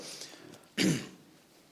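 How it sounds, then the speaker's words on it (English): A single sharp cough bursts out near the mic, loud and brief, followed by a short tail and quiet background. "Part of getting old is chronic cough for me."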